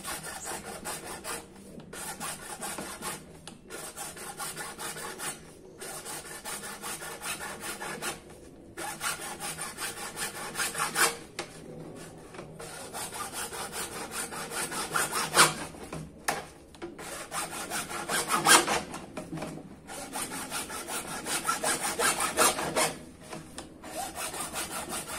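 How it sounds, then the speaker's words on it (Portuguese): A hand saw cutting through PVC pipe, with steady back-and-forth rasping strokes in rhythmic bursts separated by short pauses as the pipe is turned, close and moderately loud, with no speech. "sem pressa, sem colocar tanta força, vai serrando em cima da linha e girando o cano."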